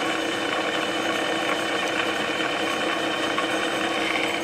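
Clausing 12 x 36 engine lathe, model 5914, with its motor running at about 280 RPM, a steady, even mechanical hum and whir held close throughout with no change.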